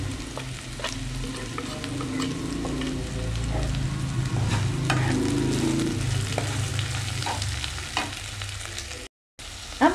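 Spices stirred into cauliflower in a pan give a close, crackling sizzle with repeated scraping and stirring strokes, steady for most of the time before a brief gap and a final clatter.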